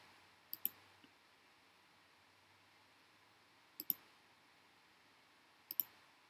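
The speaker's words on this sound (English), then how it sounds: "We just kind of click through here" A computer mouse clicking in a quiet room: three sparse pairs of sharp, faint clicks spaced a few seconds apart over low background hiss.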